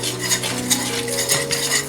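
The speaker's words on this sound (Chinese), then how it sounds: "把刚才调的料汁儿倒进来， 保持小火炒制一会儿" Lemon sauce stirred in a pan over low heat with a utensil, quick scraping and clinking strokes over a soft sizzle, close and continuous, without speech.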